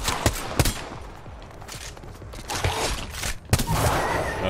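Rapid gunfire from a shooter video game arrives in sharp, loud bursts and single cracks spread across a few seconds, over a continuous noisy game background.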